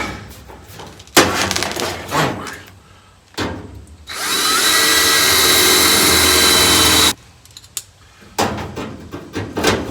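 A power drill whines loudly and steadily for about three seconds, boring Cleco holes in sheet metal for the 4-speed floor pan hump of a 1970 Dodge Challenger. Clanks and metal handling come before and after.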